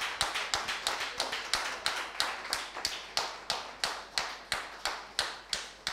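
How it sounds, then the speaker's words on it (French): Congregation members in a church clapping for their wives, a rhythmic series of sharp, evenly spaced claps, roughly three per second, fairly close and dry, with no talking over them. "les hommes, applaudissez pour nos épouses"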